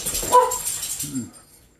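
Dogs indoors give short barks and whimpers, loud and close, with a voice speaking over them.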